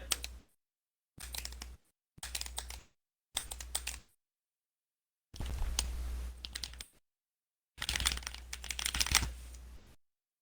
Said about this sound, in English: Somebody's typing the resume.